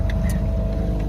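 A small boat engine named Freddy running steadily without choke while cruising off Isle Royale, a continuous low rumbling drone with a faint hum above it, close and unchanging.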